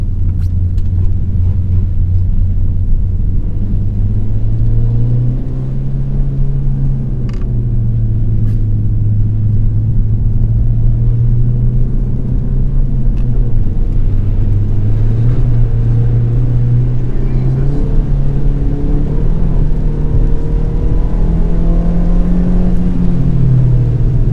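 A Ford Fiesta ST's engine on a wet race track at Luddenham Raceway, a loud continuous onboard drone whose pitch rises and falls as the car accelerates and shifts.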